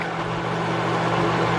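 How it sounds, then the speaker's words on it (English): An electric fan runs steadily in a home kitchen, giving a constant low hum and airy whoosh with no speech. "sorry for the noise, but I turned my fan on because it's so hot"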